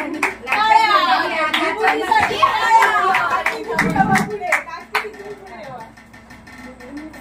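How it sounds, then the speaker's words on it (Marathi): A crowd at a Ganesh Chaturthi family gathering applauds the second-place winner of a musical chairs contest, with brief bursts of clapping mixed into loud overlapping chatter and an announcer's voice nearby. "सर्वांनी जोरदार टाळ्या वाजवा."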